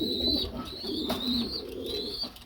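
Pigeons cooing close by, an older male among them, soft repeated throaty calls in a slow rhythm with a quiet background.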